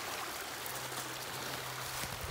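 Creek water flowing fast outdoors, a steady broadband rushing hiss that stays even throughout with no voices.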